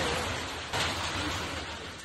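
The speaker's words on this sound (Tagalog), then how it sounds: "Ulan na may kasamang yelo ang bumuhos sa Dagupan City." Dense hail mixed with pouring rain in Dagupan City, hailstones the size of corn kernels, a steady broadband roar of impacts filling the whole stretch without pause.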